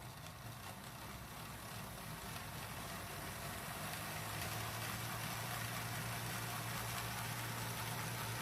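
Three Broadway Limited Paragon 3 AC6000 CSX model diesel locomotives run at half throttle, producing a continuous, even engine drone with a faint steady hum throughout, moderately loud and close, with no pauses or talk.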